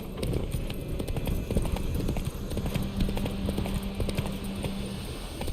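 Horse hooves from The Witcher 3 beat a steady, rapid galloping clip-clop close by, running continuously over a low game background with no voices.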